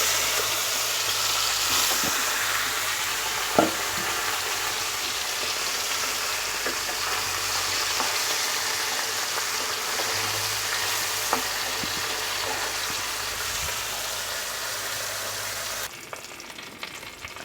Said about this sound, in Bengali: আমার মাছটা ভাজা হচ্ছে